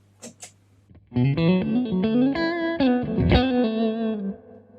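An electric guitar chord through a Victory V40 Deluxe amp rings out after a couple of short muted plucks, sustained with a pulsing tremolo wobble and a reverb tail.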